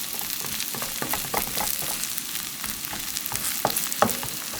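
Cabbage pancake batter frying in a pan, with a dense, continuous crackling sizzle and scattered pops, close and fairly loud, and no voices.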